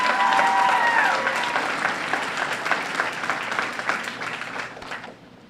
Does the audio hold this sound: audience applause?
yes